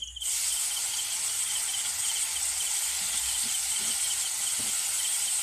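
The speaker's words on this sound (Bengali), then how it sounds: "এইবার চিংড়ি মাছগুলো কড়াইতে দিয়ে দেব।" Prawns rubbed with salt and turmeric dropped into hot oil in a wok, a sudden steady hissing sizzle that starts abruptly and holds loud and even throughout, with faint clinks underneath.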